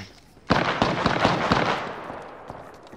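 Gunfire in a video game, a sudden loud burst of several quick shots followed by scattered, fading pops and echoing reverberation.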